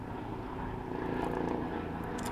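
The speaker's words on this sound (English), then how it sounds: "A helicopter overhead." A distant helicopter drones overhead, a faint, steady rumble with a soft whirring edge that swells slightly midway.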